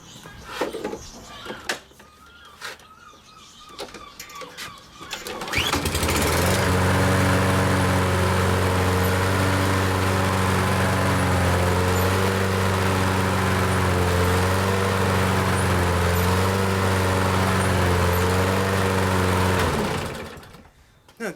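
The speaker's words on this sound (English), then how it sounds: "let's see how it drives" A Toro self-propelled lawn mower with a newly changed drive belt runs steadily and loudly for about fifteen seconds after some brief handling noises, its engine a constant close drone before it cuts off.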